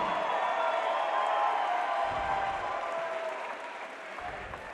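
Crowd at a cage fight event applauding steadily with scattered cheers and whoops, a dense, fairly loud wash of clapping that holds throughout and eases slightly toward the end.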